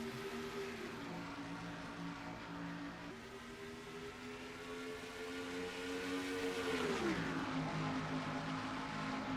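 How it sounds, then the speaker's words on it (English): Race cars in a NASCAR-style stock car video game, the Interstate Batteries 500 at Texas, rev hard in a loud, continuous engine drone whose pitch rises, dips sharply, then climbs again. "as you'll see here how high they're revving these cars"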